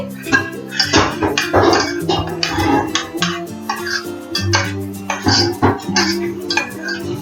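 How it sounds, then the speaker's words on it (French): Carrots in tomato sauce stirred in a pot with a utensil, close and clearly audible: repeated clinks and scrapes against the pot in an irregular rhythm, with no talking. "Nous allons mélanger"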